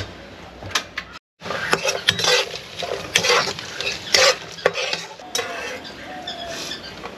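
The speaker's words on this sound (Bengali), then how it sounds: "ফ্রাইড রাইসের জন্য আমি কাজু কিশমিশটা ভেজে তুলে রাখছি" Cashews and raisins fry in a pan for Bengali-style fried rice, a soft sizzle under frequent scraping, clinking stirs against the pan.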